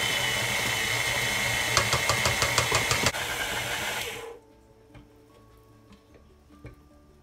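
A stand mixer with a paddle attachment beats American buttercream icing, its motor whirring loudly with a rhythmic ticking knock, then it switches off, leaving a quiet kitchen.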